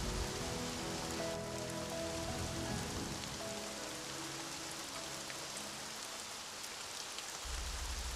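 Rain pours steadily in a broad, constant wash of hiss that holds at an even level throughout, with faint low tones underneath and a brief low thump at the very end; no one speaks.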